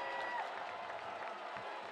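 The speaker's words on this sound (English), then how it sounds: "the Toro crowd trying to cheer on their" Home crowd at a high school football game cheering and applauding, a steady distant roar under a play-by-play announcer's voice.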